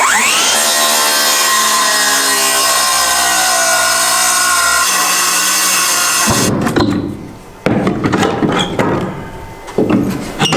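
A saw blade cuts steadily through wood on a kitchen wall during a mansion restoration, loud and continuous for about six seconds, then gives way to rougher, intermittent cutting bursts with brief pauses.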